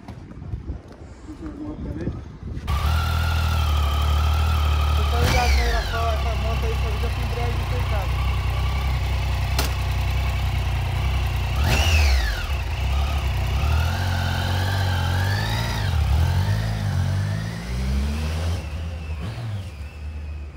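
A 2016 motorcycle engine idles with a low steady rumble, then revs up sharply a few times, rising and falling, with people talking nearby.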